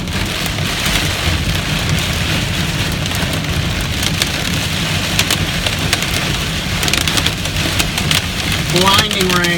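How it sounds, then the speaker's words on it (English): Heavy rain pours down hard and steadily during a hailstorm in Plainfield, Indiana, a loud dense hiss with sharp crackling impacts, as a voice speaks over it near the end. "Blinding rain. Blinding."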